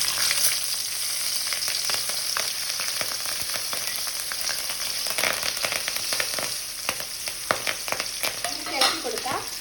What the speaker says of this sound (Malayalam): ഇനി നമുക്ക് ഡെക്കറേഷൻ ആയിട്ടുള്ള സാധനങ്ങൾ എണ്ണയിലിട്ട് വറുത്തെടുക്കാവേ. തേങ്ങാക്കൊത്ത്,